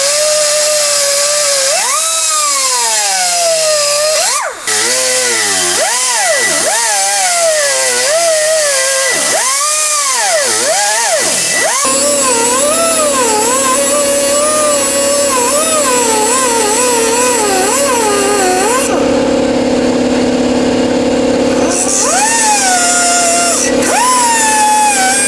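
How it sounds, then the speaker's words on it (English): A die grinder works on the frame of a 2013-2016 Can-Am Outlander quad, a loud high whine that rises and falls in pitch as it bites and eases off, then settles into a long steady grind with brief pauses. "let me get the die grinder out and start grinding"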